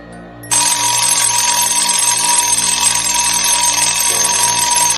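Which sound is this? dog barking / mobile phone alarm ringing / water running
mobile phone alarm ringing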